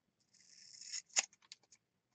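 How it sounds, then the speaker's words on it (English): Scissors trim a piece of paper in a quiet room, a soft sliding snip followed by a sharp cut and a few small clicks. "So I'm just going to trim it with my scissors."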